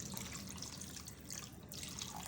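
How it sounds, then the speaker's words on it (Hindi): Water is poured into a bowl holding goat liver soaked in half a cup of milk, making a faint, continuous splashing trickle with no one talking. "मैं थोड़ा पानी डाल दूँगी इसके अंदर।"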